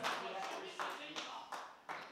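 Audience applause at a talk, heard as a few distinct claps spaced in a slow, uneven rhythm, fairly faint and close.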